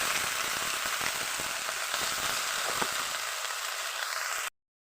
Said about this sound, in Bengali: এবার ঢেলে দিয়ে আমি একটু কষিয়ে নেব